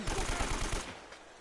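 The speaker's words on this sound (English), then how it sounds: "Oh, Nathan, you're a shit shot." Rapid burst of gunfire in the Uncharted video game, a fast rhythmic string of about a dozen close, punchy shots over roughly a second before it cuts off.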